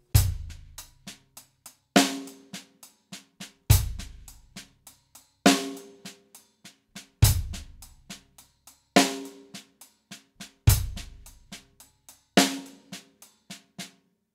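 Double paradiddle sticking played on a drum, a repeating phrase of one loud accented hit followed by several quieter strokes, sounding about every two seconds, close and without talk.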